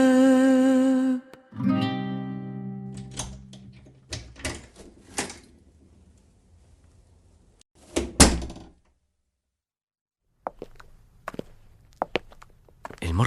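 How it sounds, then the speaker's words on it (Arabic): Door thuds and knocks in an Egyptian Arabic audio drama: several sharp thumps and a heavy slam-like hit among footstep-like sounds, following a sung or sustained tone at the start, with quiet gaps between. "باب."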